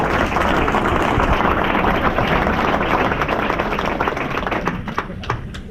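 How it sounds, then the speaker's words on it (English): An audience at a Tallahassee mayoral candidate forum applauds the candidates: loud, dense, sustained clapping from a roomful of people that thins slightly toward the end. "Let's go ahead and give these guys a round of applause."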